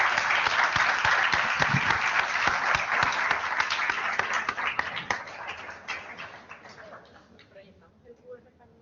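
An audience at a round table on tourism gives warm, sustained applause to the speakers, then it gradually thins out and dies away into a few scattered claps.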